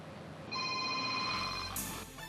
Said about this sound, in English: your phone will ring.